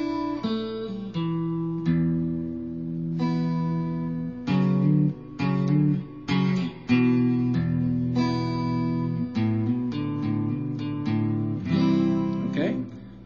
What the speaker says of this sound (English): Okay, so the riff should sound like this.